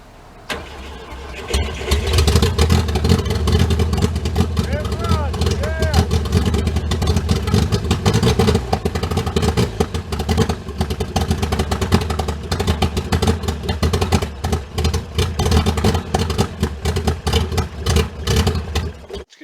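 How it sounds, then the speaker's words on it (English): A 1964 Volvo PV544 engine, long out of use, cranks over loudly and continuously for nearly twenty seconds with a steady rapid churning from the starter, close up, without catching, while a voice is heard briefly. "There's ignition, and let's try cranking it over"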